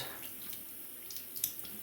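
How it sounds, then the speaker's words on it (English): Tap water runs over a fine black Arkansas sharpening stone, a soft steady trickle with a few light splashes near the end and no talking. "so I'm just gonna wet it underwater"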